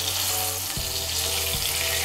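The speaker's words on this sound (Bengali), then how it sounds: "পনিরগুলোকে আমি হালকা একটু ভেজে নেব" Paneer fries lightly in hot oil in a kadai, giving a steady, dense sizzle throughout with a couple of faint clinks and soft scrapes underneath. It sounds close and continuous with no talking.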